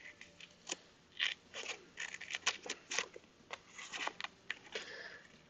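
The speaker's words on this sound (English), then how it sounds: "I'm going to have to cut it out because it's the proper one" Scissors snip through washi tape at a desk, a run of short crisp cuts and paper rustles close by, irregular and moderately quiet, with no talking.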